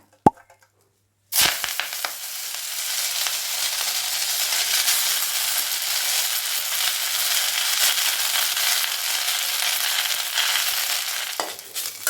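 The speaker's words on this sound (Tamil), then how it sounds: "ஃப்ளேமை கம்மி பண்ணி வச்சுட்டு நல்லா சுருளை வறுத்துக்கோங்க. நல்லா வதங்கட்டும்." Drumstick leaves fry in a hot kadai with a continuous loud sizzle that starts abruptly after a short silence and a clatter, then holds steady with faint stirring scrapes and no talking.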